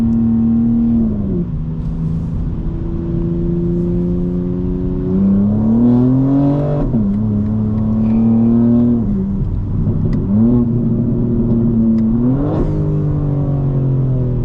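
A 2025 BMW M4 Competition engine pulls hard through repeated gear changes from inside the cabin, its tone climbing steadily, dipping at each shift, then rising again in a loud, continuous series of runs.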